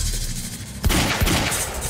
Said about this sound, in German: Er hat eine Waffe! Schieß!